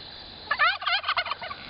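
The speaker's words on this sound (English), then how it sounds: "Oh, here come the turkeys." Farm turkeys let out a rapid, rattling gobble lasting about a second, fairly close and clear against a quiet background.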